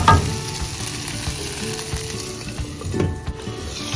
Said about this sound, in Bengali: হট সস না দিলে নয়, দিয়ে নাড়িয়ে একটুখানি ঢেকে রাখবো কিছুক্ষণ